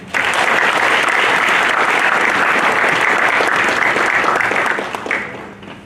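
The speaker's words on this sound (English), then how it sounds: "Congratulations and a round of applause for him." Loud, dense applause from the audience at the Ghana Armed Forces Command and Staff College Junior Staff Course 75 graduation ceremony, June 2021, honouring the top graduate; it holds steady for about five seconds, then fades quickly.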